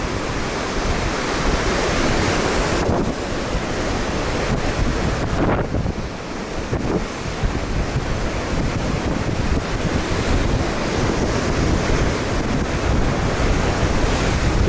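Sea waves crash and wash against rocks on a coastal trail around the Homi Peninsula, with strong wind buffeting the microphone into a loud, continuous roar and no speech.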